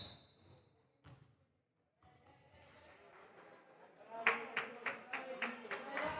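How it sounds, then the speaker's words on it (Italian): A basketball crowd at a Rotaliana versus Jadran game breaks into steady rhythmic clapping partway through, each clap sharp and evenly spaced over a murmuring arena background. "Applaude il pubblico"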